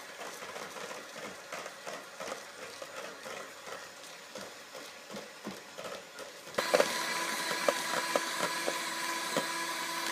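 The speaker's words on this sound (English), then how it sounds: "as you're whipping it, make sure you're also whipping it, you know, going around with the mixer" An electric mixer whips a vegan cake topping, a faint whirring with tapping bumps as the beaters move around the bowl, then a louder, denser whine for the last few seconds; no talk.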